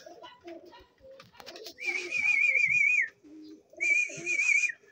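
Pigeons kept by a pigeon fancier give two sustained cooing calls close by, with people talking around them.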